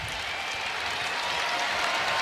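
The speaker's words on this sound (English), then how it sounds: "Rather polite round of applause tonight." Polite applause from a basketball arena crowd after a Celtics win over the Warriors at Golden State, a steady even wash of clapping sustained through the whole stretch, moderately loud with no talk over it.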